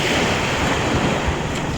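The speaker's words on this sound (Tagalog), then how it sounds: "at nandito po kami sa tabing dagat na." Continuous rushing sea surf at the shore with wind buffeting the microphone, loud and steady with no talking.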